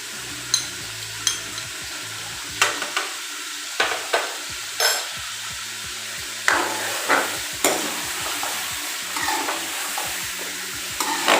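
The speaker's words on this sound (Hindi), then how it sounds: "चिकन को भूनना है" Chicken pieces sizzle in a hot pan with salt for a Delhi-style chicken korma while a spoon scrapes and stirs them in repeated sharp clatters over a steady frying hiss, close up and with no talking.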